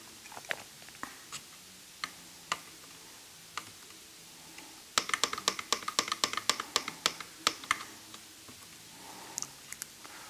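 Button presses on a digital thermostat's up and down arrow keys and back and next buttons, scattered soft clicks at first, then a quick burst of rapid repeated taps, close and faint with no talk.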